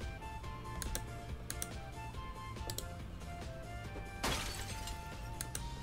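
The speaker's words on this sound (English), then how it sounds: "Let me freaking break the window then" A window's glass smashes once in the video game Project Zomboid, a sudden bright crash late in the stretch, amid scattered keyboard clicks and low background noise.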